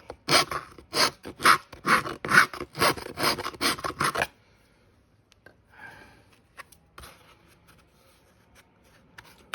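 A bastard file rasps on metal in quick, steady strokes for about four seconds while fitting a Talaria Sting R stem steer clamp, then stops, leaving faint scattered handling noises.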